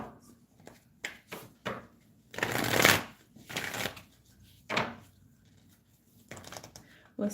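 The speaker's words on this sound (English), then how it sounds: "Shuffling it up a little bit" A deck of cards shuffled by hand in several quick riffling bursts spread across the stretch, close and moderately loud, with soft movement noises between them.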